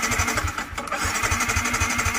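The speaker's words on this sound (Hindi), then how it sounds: "लग रही अब वो स्टार्ट होगी, अब स्टार्ट होगी, बट स्टार्ट नहीं हो रही है" A motorcycle engine cranks repeatedly without catching, rhythmic chugging pulses from the starter at close range with a brief pause midway.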